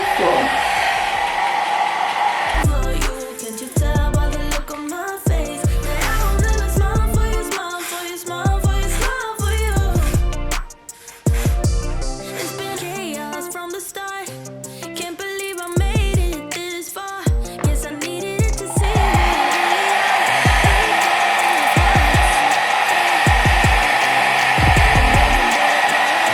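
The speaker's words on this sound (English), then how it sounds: "Then I'll blow it to dry in a cool form." A hair dryer on a cool setting blows steadily over a pre-colored, pre-curled highlight lace wig, loud and close, with clicking and shifting handling noises breaking up the middle stretch.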